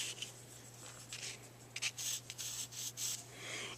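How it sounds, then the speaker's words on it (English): Pencil sketching a sphere shape on white paper, a close, soft, scratchy rubbing in irregular strokes with a steady low hum underneath. "So I'm going to sketch in my sphere shape."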